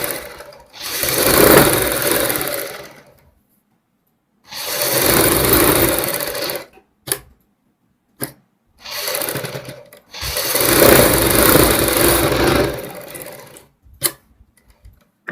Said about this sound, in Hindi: इस प्रकार हम बिल्कुल सीधी सिलाई लगाएंगे।